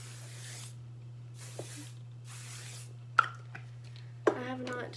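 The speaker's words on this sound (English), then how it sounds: "I'm just going to spray the other side of my hair with this as well." Three short bursts of aerosol spray hiss close by, evenly spaced, followed by a couple of light clicks and handling sounds over a low hum.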